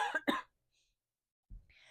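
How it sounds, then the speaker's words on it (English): Two quick, close coughs, then a pause and a softer throat sound with a breathy exhale. "excuse me, I'm going to cough."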